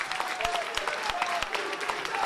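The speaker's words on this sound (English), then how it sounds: "And listen to the crowd." A crowd at a professional wrestling match applauds and claps steadily, a dense wash of hand claps with sharper individual slaps standing out, loud and sustained throughout.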